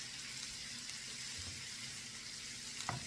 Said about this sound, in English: Now I'm gonna put the onions and mushrooms in here and let the pan do its work.